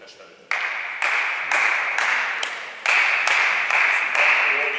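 Clapping on each step during a volleyball footwork drill on a 3D ladder, a series of about seven crisp hand claps at a regular pace with a voice talking under them.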